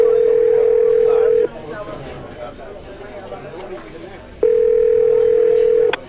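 A steady telephone ringback tone from a call placed to Waverly sounds loud and clear, breaks off into murmuring chatter and then resumes; voices are heard in the gap.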